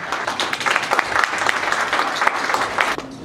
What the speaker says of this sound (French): On applaudit très fort pour le Cameroun